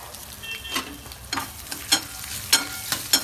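Potatoes for batata pohe fry in a pan under a soft constant sizzle, broken by several sharp scraping strokes of a spatula at irregular intervals, close by with no talking.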